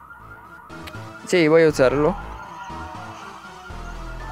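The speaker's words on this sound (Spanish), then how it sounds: "espero que no se escuche el audio de la alarma del carro" A car alarm wails in short warbling bursts, loud and close for about a second, while someone talks in Spanish over game audio.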